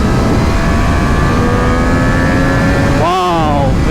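Triumph Street Triple RS motorcycle (2020) engine pulling hard past 10,000 RPM, a loud sustained rising whine with climbing harmonics, then a sharp shift or drop near the end, heard close up over wind.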